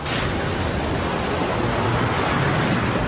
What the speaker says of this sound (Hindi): लहरें ऊंची होती जा रही हैं।